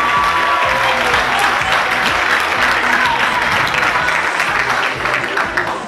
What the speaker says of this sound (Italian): fatemi un po' di applauso